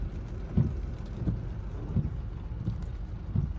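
Morning rain falling steadily with a low, rumbling wash, heavy drops pattering under a continuous murmur, with faint periodic thuds; no voices present.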